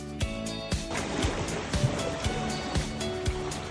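Ocean waves wash onto a beach in Lagos, in Portugal's Algarve, a steady broad rush of surf with soft, regularly recurring thumps of breaking water, moderately close and with no voices.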